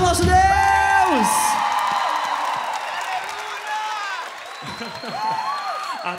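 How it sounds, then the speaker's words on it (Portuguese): A church crowd at a Marian prayer night with the Canção Nova community responds with cheering, whoops and clapping, loud and sustained, with voices rising above the noise. "Uma salva de palmas pro nosso Deus."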